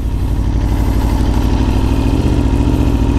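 A sportbike motorcycle engine runs steadily at low revs while the rider works the clutch, a loud, continuous close-up drone with an even pulsing rhythm and no talk over it.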